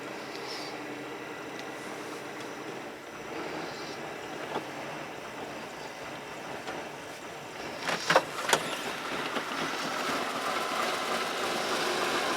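A 1995 Cadillac Fleetwood Brougham engine runs rough and barely idles just after a cold start, a steady low mechanical drone with a few brief louder knocks or clatters near the end, no talking.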